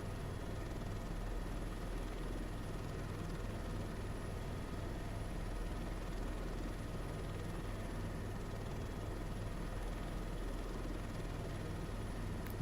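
Helicopter in flight, a steady, even rotor and turbine drone heard from inside the cabin, continuous and unchanging without any talk.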